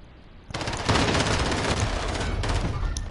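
Rapid automatic gunfire in the survival video game Rust bursts in after a brief quiet moment and continues as a loud, dense, sustained stream of shots with a slight dip partway before resuming.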